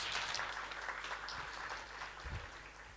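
Applause from the audience at a live 2023-24 budget dissection event, a steady broadband wash of clapping at moderate distance lasting throughout, with a low thump near the end.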